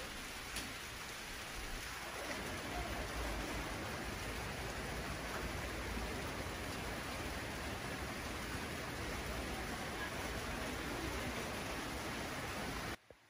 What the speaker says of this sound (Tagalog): Umuulan siya dito sa amin.